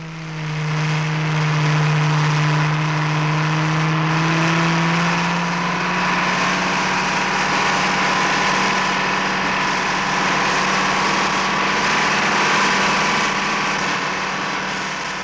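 An off-road truck carrying strapped-down pipe sections for a water pipeline engine drones steadily over rough ground, loud and continuous with a slowly shifting pitch and no talk.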